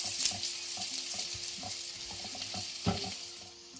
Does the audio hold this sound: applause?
no